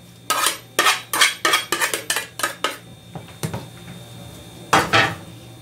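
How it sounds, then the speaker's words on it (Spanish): Utensils clatter against a bowl as grated zucchini is mixed with cheese for zucchini nuggets, about a dozen sharp, close scraping strokes in quick rhythmic bursts, then a pause and a final pair of clinks. "vamos a echar lo que es el queso, integrarlo a lo que es nuestras calabacitas ralladas"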